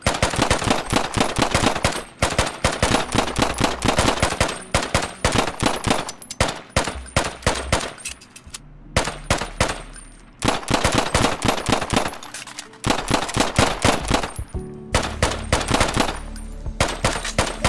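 Sustained bursts of rapid automatic gunfire from the 2D shooter game Intravenous, loud and dense with brief gaps between volleys, plus a few single shots and reload pauses; no talking.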